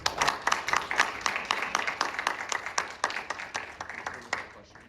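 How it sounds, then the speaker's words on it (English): Scattered, thinning applause from a small audience after a talk, distinct individual claps at first that gradually fade toward the end. "Let's start with a round of applause."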